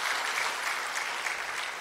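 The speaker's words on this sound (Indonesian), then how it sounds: "Tepuk tangan buat Tuhan Yesus." Members of a congregation at a women's worship service clap together in a brief, dense burst of applause that stays loud and even.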